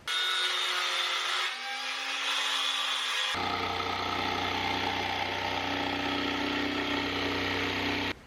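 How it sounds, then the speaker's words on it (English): A handheld circular skill saw makes a plunge cut into wood for a bunk bed build: the motor whines steadily at first, then the pitch drops and a loud, broadband cutting roar takes over and holds until the blade stops. "I'm going to attempt a plunge cut here with my saw"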